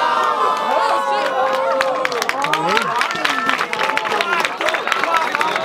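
Crowd at a student rap battle in Guarulhos cheering, clapping and shouting over loud background music, lively and boisterous throughout with a voice rising above the noise.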